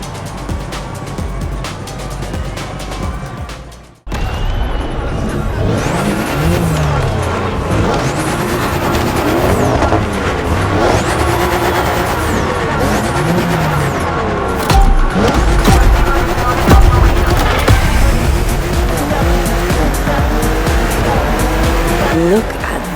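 BMW M race cars racing in The Crew Motorfest, with loud engines revving and shifting through gears, tires squealing, and cars roaring past continuously after a brief drop near the start.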